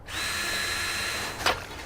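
A power drill bores holes during a private investigator's search of the Red Cedar River: a loud, steady whining drone for over a second, then a short sharp burst as it stops, with no talking.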